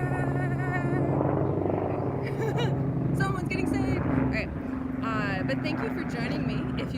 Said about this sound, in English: oh gosh, it's kind of loud. There's a helicopter! Helicopter!